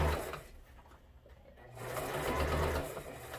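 A domestic sewing machine stitches fabric for a splatter-proof face shield mask, its motor humming steadily and close, easing off briefly in the middle before picking up speed again, with no talking over it.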